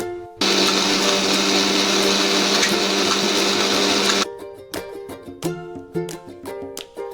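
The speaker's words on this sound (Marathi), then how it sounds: "तांदूळ हे आपल्याला मिक्सरमधून बारीक करून घ्यायचे आहेत." A mixer grinder grinds soaked rice with a loud, steady whirring roar for about four seconds, then cuts off, leaving clinks and rattles of the jar settling.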